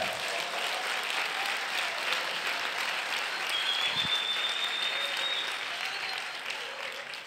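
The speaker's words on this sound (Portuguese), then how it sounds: "E dê um aplauso a ele." A church congregation claps in a steady, full round of applause that lasts several seconds. It fades a little at the close, and a faint whistle-like tone rises briefly in the middle.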